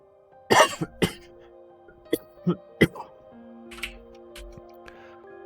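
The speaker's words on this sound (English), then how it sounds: "I apologize for the coughing on stream" Several sharp coughs and throat clearings, loud and close, come in scattered bursts with quiet gaps between them, from a man recovering from a sore throat.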